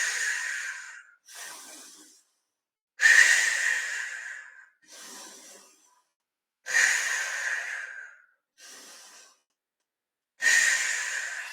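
Deep, audible Pilates breaths on a mat come close to the mic in a steady rhythm of long, hissing exhales alternating with shorter inhales, about seven in all, with no talking.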